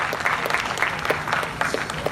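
Audience at a Hindi kavi sammelan poetry recital in Sujangarh clapping steadily, a dense mid-level round of applause with scattered louder claps, no talking.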